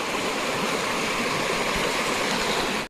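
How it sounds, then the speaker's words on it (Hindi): River still flowing strongly after a landslide despite dry weather, a steady broadband rush of running water, close and continuous with no voices, cutting off abruptly at the end. "लेकिन ये नदी अभी भी चल रही है।"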